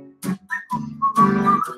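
Concert audience whistling a tune together, a bright wavering melody of several sustained notes that carries clearly and fairly loud, with no talking over it.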